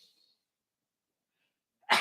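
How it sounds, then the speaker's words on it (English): A person sneezes once, loudly and close to the microphone, in a live studio chat setting; a sharp burst comes after near silence at the very end. "I'm going to sneeze."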